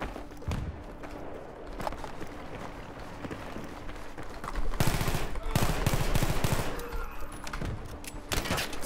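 Gunfire bursts out in Battlefield 3 Gun Master mode, first as scattered single shots, then as a fast rattling automatic spray in the middle stretch, followed by a few more sharp shots amid game ambience.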